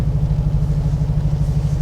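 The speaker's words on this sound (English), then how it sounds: "the sound of this engine, wow" Engine of a 2019 Mercedes-AMG G63 wagon while driving, a loud, deep, steady rumble with a strong low throb that holds evenly throughout, heard from inside the cabin with no talk.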